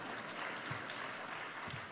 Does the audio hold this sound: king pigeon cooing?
no